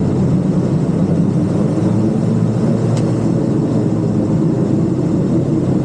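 Steady, loud roar of Beechcraft King Air 260 turboprop engines holding power on the ground as the propellers go into reverse, a dense continuous drone throughout.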